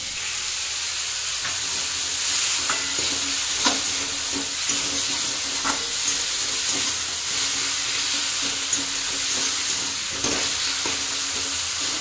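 Tomato, green chili, garlic and onion fry in hot oil for a dal tempering, with a steady loud sizzle and repeated scraping stirs of a spatula.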